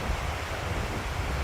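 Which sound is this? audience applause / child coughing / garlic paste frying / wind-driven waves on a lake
wind-driven waves on a lake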